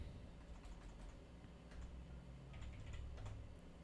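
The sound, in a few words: typing on a computer keyboard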